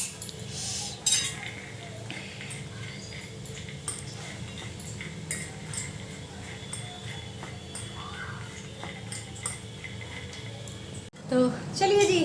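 A spoon clinks and scrapes steadily in a bowl, mixing chana chaat with black salt and chaat masala, over a constant low background hum, with a brief louder rustle near the end.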